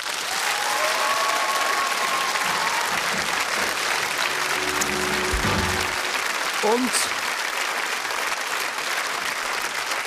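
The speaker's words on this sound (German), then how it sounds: "Das ist euer Applaus." Studio audience applauding on a Swiss TV cooking show finale, steady dense clapping throughout, loud and close, with a voice speaking briefly over it.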